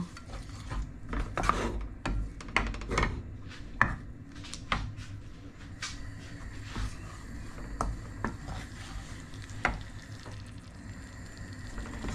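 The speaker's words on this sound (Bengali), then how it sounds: "একটু এভাবে কষিয়ে নিয়ে আমি কুক করে নেব" Spiced prawn curry masala being stir-fried in a pan for a cucumber prawn curry, with a spatula scraping and knocking in irregular bursts over a low, steady sizzle close by.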